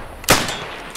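A single sharp gunshot in the video game Beyond the Wire, a loud close crack with a short decaying tail and no voices over it.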